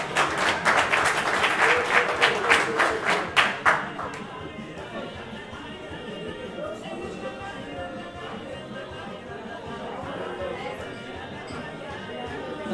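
Applause from the audience at a French-language ceremony for a Semikha rabbinic ordination, a dense burst of clapping for about four seconds that then fades into murmuring crowd chatter.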